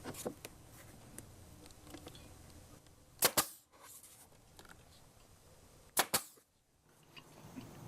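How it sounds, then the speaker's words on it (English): A pneumatic nail gun tacks PVC deck boards in place, firing two sharp, loud shots about three seconds apart over a quiet outdoor background. "We're just tacking it up right now with the gun."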